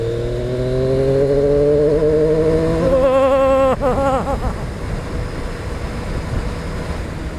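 A Triumph Street Triple RS super naked sport bike accelerates hard from about 70 km/h, its engine note rising steadily through the revs, shifting briefly, then continuing to climb with loud wind rush close to the rider.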